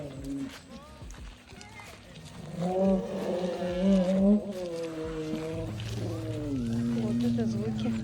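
Elephants in Thailand trumpeting and rumbling, a series of loud, drawn-out calls with shifting pitch, layered and sustained across the whole stretch, with some background noise.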